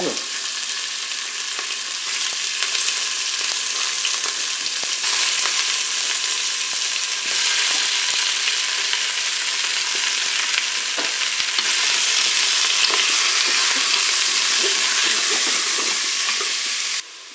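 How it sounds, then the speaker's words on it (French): Meat pieces for pot-au-feu brown in a preheated Cookeo multicooker, producing a loud, steady, close-up sizzle that hisses without pause for the whole stretch, with no voices. "Je vais faire revenir mes morceaux de viande."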